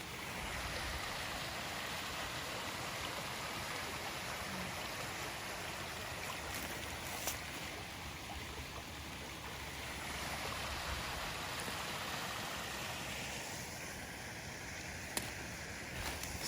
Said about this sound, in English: Like the sound of the creek.